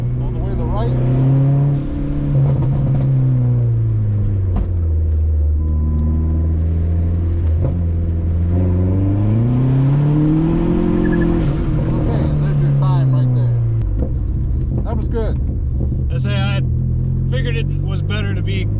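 A car accelerates hard around an autocross course, its loud, close engine note climbing and falling through repeated rev sweeps across the run, steady and continuous throughout.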